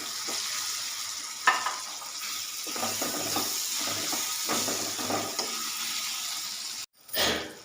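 Onions and ginger paste fry steadily in a pan, a continuous sizzle broken by a few brief scrapes and stirs, then a sharp louder burst near the end as more goes in.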